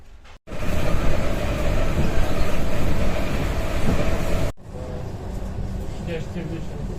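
Interior of a moving suburban electric commuter train: a steady, loud rumble of wheels and carriage noise fills the cabin, then drops to a quieter ride after a brief cut, with occasional faint voices nearby.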